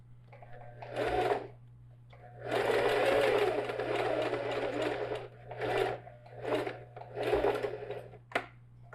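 An industrial sewing machine runs a topstitch seam on a backpack in several bursts of rapid stitching, separated by short pauses, over a steady low motor hum.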